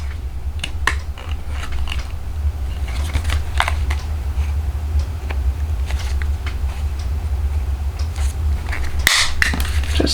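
A small half-inch hole punch snaps through cardstock paper in a few sharp clicks and crunches, close up over a low steady hum.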